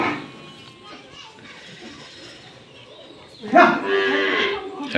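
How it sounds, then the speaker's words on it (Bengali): A pakra-print Gir cow lets out a loud, close moo as it enters the shed, after a stretch of quieter background noise, with children's voices nearby. "বাছাই শেষ, গরু ঘরে ঢুকে গেছে।"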